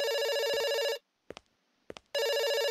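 An unanswered telephone rings in an adventure game, two long electronic bell trills separated by a pause with a couple of brief clicks, loud and close with no talk.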